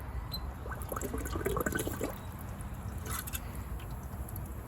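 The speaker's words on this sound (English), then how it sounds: "Put the water hose on." Water from a garden hose runs into a container of crushed, pulverized shells, giving a steady, close rushing and gurgling wash with a few small splashes and no talk.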